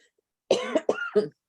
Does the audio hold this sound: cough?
yes